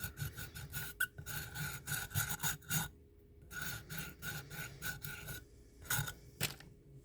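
A Hydrocast mold piece being sanded with the rough side of a sander gives close, rhythmic rasping strokes in quick bursts, with a brief pause in the middle before the scraping resumes.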